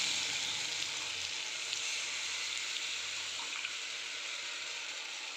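Gram flour being stirred into a hot pan for zunka gives a faint, steady sizzle and frying hiss. A few light scrapes from the stirring break through it, and nobody speaks.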